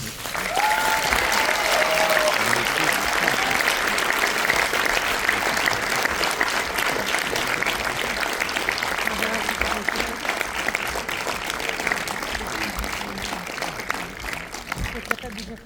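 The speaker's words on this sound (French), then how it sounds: "je vous demande d'applaudir la réalisatrice du film, Barbara Schulz." At a film premiere, an audience gives the female director long, steady, dense applause that fills the room and fades slightly near the end.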